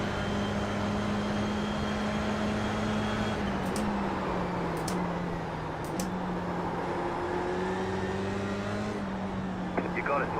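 Race car engines drone in the iRacing simulation game, one engine holding a steady, loud tone whose pitch slides and shifts as the car accelerates and brakes.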